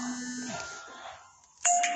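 Phone ringing during a Brawl Stars game session: a short electronic tone ends, then after a brief lull a bright chime-like ring starts abruptly and sounds loud and close.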